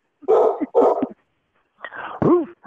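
Dogs bark twice in quick succession, close and loud, then after a short pause let out a higher whimpering yip.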